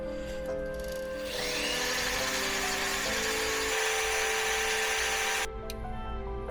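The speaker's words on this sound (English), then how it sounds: "So let's drill a hole first." A power drill whines steadily as it bores through material, running continuously for several seconds before cutting off abruptly.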